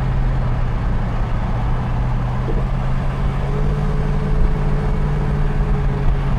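A 1973 Jensen Interceptor MkII with a 440 V8 drones steadily while driving, heard from inside as a constant low engine rumble mixed with road noise, with no change in revs.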